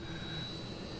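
A jet engine from a plane airdropped in Just Cause 2 roars as a steady, even drone with a faint high whine riding on top, brief and moderately quiet with no voices.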